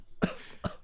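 Two short, close coughs from one person, about half a second apart, with a quiet room behind them.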